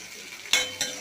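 A spoon stirs tomatoes in a pan for tomato chutney, giving a soft steady sizzle under two quick scraping clinks, close and fairly quiet.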